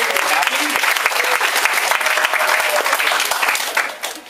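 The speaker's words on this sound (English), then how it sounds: "Let's get a round of applause for that." A school audience gives dense, continuous applause for state champion football and volleyball teams. The loud clapping carries on for several seconds and then starts to fade near the end.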